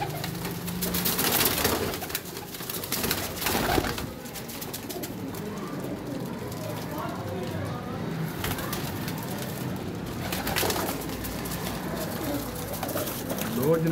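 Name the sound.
racing and breeder pigeons cooing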